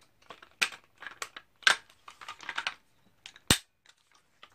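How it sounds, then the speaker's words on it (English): An AR rifle's lower receiver is fitted to the upper in a series of close, small metallic clicks and scrapes, ending with one sharp snap as the parts lock together. "We're going to take the lower, we're going to attach it to the upper."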